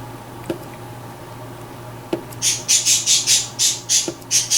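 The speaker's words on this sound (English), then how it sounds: "And there go the birds. I talk, they talk." Birds chirping outdoors in a quick, regular run of bright, high calls that begins partway through and keeps going, with a few soft taps and a low steady hum beneath.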